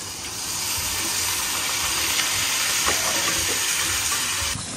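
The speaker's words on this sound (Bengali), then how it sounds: "এইরকম তেলের মধ্যে একটু চিকেনটাকে প্রথমে হালকা করে ভেজে নিয়েছে" Chicken pieces frying in oil in a pan give off a dense, steady sizzle and hiss, close and even for a few seconds with no talking.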